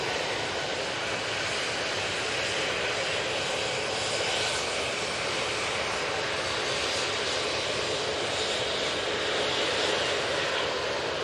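A Lufthansa jet airliner departs Manchester Airport bound for Frankfurt, its engines a steady, loud, broad roar that holds evenly throughout without speech.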